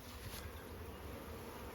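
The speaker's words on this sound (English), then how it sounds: "that's a lot of bees" A soft, continuous buzzing drone of many honey bees around a hive, steady and somewhat distant, with no voices.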